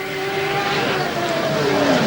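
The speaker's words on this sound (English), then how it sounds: "He's underway in the Jaguar XJS." A Jaguar XJS touring car races at Mount Panorama, its engine droning loudly with a steady pitch that gradually shifts as it runs, mixed with crowd-like ambience, while a commentator talks over it.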